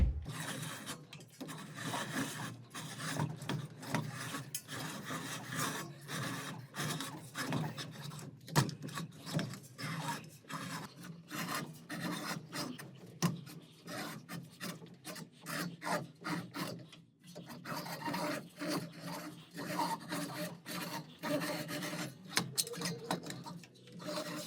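A beading machine rolls a bead into 0.8 mm zinc sheet, giving close, repeated rasping and scraping strokes with small ticks in an uneven rhythm, with no talking.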